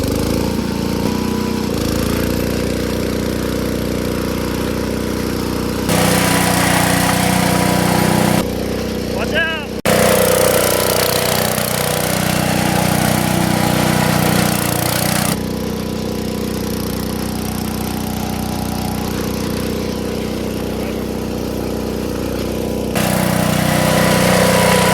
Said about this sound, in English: so I'm going to try to do donuts right here in this mud pit.